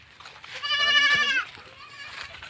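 A Jamunapari goat bleats once on a farm, a loud, wavering call lasting close to a second, with a softer second bleat after it and faint voices in the background.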